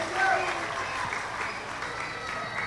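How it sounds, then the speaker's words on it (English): A theater audience bursts into applause, a steady wash of clapping with a brief whistle-like tone early on, carried evenly at moderate distance. "I'd like to request everyone to clap, to give ourselves a round of applause."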